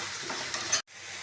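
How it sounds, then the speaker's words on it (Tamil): Stem amaranth greens sauté in hot oil with chopped onions, giving a steady, close frying sizzle with stirring that cuts off abruptly near the end before resuming faintly. "கீரை நல்லா வதங்கட்டும்."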